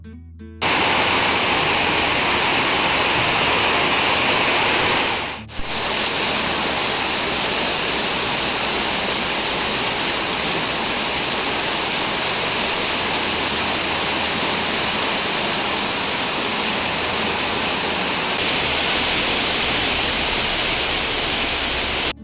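Heavy monsoon rain pours down in a dense, steady roar that holds loud and unbroken throughout, with one brief dip early on before the downpour resumes at full strength.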